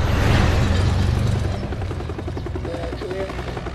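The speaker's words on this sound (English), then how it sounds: "Chopper's already ready for takeoff." A helicopter sits ready for takeoff, its rotor and engine making a loud, steady, close-up drone with a rhythmic chopping throb that runs throughout.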